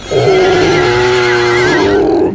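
A human voice imitates a squealing pig formed from congealed ooze, giving one loud, sustained, wavering squeal that holds steady for about two seconds before cutting off, close and alone.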